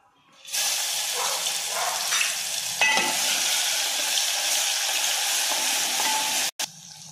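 Garlic-ginger paste is dropped into hot leftover fish-fry oil and bursts into a loud, steady close-up sizzle and hiss that holds nearly unbroken, with a brief scrape, before a sudden short cut near the end.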